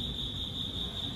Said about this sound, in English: There's like a cricket in here.